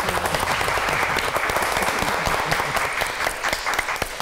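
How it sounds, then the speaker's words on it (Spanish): A studio audience at a Spanish-language slam-style talk show gives a strong, steady round of applause, dense clapping filling the whole stretch at an even loudness with no talk over it. "Claro que sí, un fuerte aplauso."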